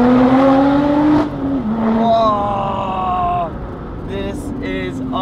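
A Lotus Exige Sport 380 driven in race mode gives a loud, close engine note that holds steady, dips and rises through gear changes, while someone talks over it.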